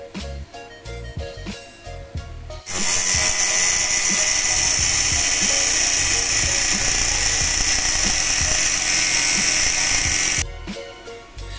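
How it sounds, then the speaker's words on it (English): An angle grinder cuts through the steel stem folding pin of a Xiaomi electric scooter, a loud, steady high-pitched whine with gritty grinding lasting about eight seconds, framed by quieter mechanical handling before and after. "I finished it cutting by my grinder"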